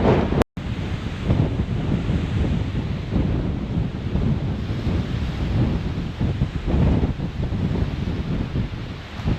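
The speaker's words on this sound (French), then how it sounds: "On est bien en Islande, il fait un vent d'enfer." Strong, gusty wind blowing across the microphone on the Icelandic coast, a steady loud roar with surging gusts and no talking.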